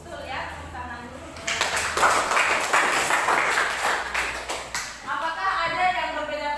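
Classroom students clap their hands together for a few seconds, a dense burst of fairly close clapping that rises after a quieter start, fades briefly and then picks up again, with a teacher's voice around it.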